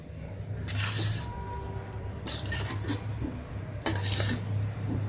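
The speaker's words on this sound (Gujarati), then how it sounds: "ધીમા તાપે શેકવાનું છે જ્યાં સુધી આ લોટ એકદમ લાલ ન થઈ જાય ને અને સરસ સુગંધ ન આવે ત્યાં સુધી એને શેકવાનું છે સતત હલાવતું રહેવાનું" Urad flour roasts slowly in ghee in a pan for adadiya while a spoon stirs it, making three bursts of bright scraping a second or so long over a low steady hum, close and clear, with no talk.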